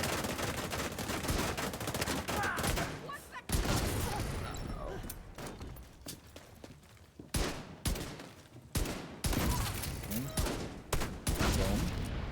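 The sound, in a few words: explosions and gunfire in video game The Division 2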